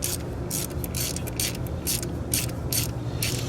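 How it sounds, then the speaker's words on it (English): A ratchet tightens a spark plug on a Ford Ranger 2.3L engine, giving a run of quick, close metallic clicking bursts in an uneven rhythm over steady background hum, with no talk. "we'll just be careful on how much torque we apply, tighten that down"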